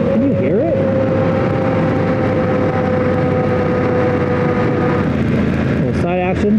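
Loud, steady road and tire roar from a Motoz Tractionator adventure motorcycle tire running at low air pressure, a constant rumble with engine tones throughout and a brief burst of speech near the end.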